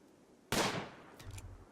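A single sharp gunshot from the video game Rimworld, a sudden loud crack that decays over about half a second, followed by faint low rumble.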